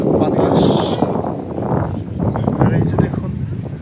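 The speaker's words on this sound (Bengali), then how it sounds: "আর এখানে কিন্তু প্রচুর বাতাস।" Strong wind blows across the ghat of the Durgasagar pond in Barisal. It buffets the microphone as a loud, continuous low rumble, while a voice talks over it.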